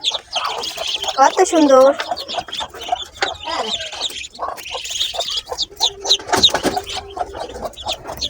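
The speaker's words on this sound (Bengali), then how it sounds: "এই মুরগির বাচ্চাগুলো হচ্ছে আজই ফুটেছে" Newly hatched chicks peep in quick, high, bright bursts close by, clustered near the start and scattered later, while a person speaks briefly among them.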